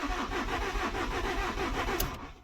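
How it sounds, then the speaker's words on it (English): A VW Amarok common rail diesel engine cranks over and catches, a steady mechanical churn with rhythmic pulses running through the whole stretch, close and moderately loud. "Well, it's let me turn it over."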